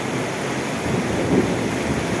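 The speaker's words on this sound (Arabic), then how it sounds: "المطره شديده قوي." Heavy rain with hail in a thunderstorm pours over flooded streets in Giza, a steady dense wash of noise with a faint low rumble, close and continuous, with no voices.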